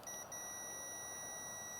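Steady high electronic beep from a multimeter continuity test on coax cable, one continuous tone with a brief dip early and a click near the end, close and fairly quiet.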